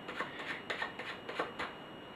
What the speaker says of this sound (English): Cards can be shuffled